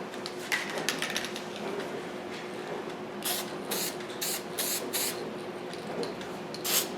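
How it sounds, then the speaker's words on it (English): Spray paint base coat applied for a hydro dipping project, with short hissing aerosol bursts, several in quick succession later on, close by over a low background hum. "we're going to do the base coat paint"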